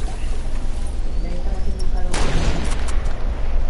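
Gunfire in Fortnite during a match, with a loud burst of shots near the middle under ongoing game noise and voices talking, including a sniper shot fired at the player.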